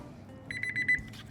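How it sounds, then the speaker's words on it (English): A Thermoworks Smoke X4 wireless RF thermometer sounds its alarm, a quick run of about eight loud, sharp, high electronic beeps close by, followed by a faint click. "As you can hear, it's a pretty loud alarm, so you should be able to hear that inside."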